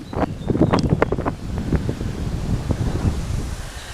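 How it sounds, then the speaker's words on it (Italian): Gusty wind buffets a microphone outdoors at Castello di Toppo, a castle, producing loud, uneven low rumbling and whooshing that rises and falls throughout with no speech. "È una giornata ventosa"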